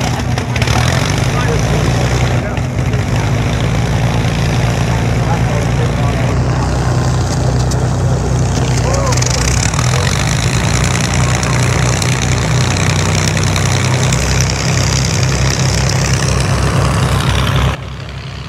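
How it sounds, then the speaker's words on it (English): Loud, steady drone of two propeller engines of a Lancaster aircraft running nearby, a constant low rumble throughout before easing slightly at the end. "That's two engines running."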